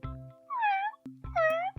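A voice actor imitates a cat with two short, high meows, each under a second, separated by brief low background tones, fairly faint and close.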